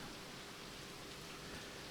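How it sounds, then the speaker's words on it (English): Rain falls steadily, a faint, even hiss of drops with no break and no other sound over it. "the rain is coming down now."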